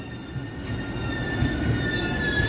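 Two passenger trains pulling out of a station together, including the Tirupati–Kakinada Express 17249 with LHB coaches: a continuous low rolling rumble with faint high whining tones, steady and moderately close, without speech.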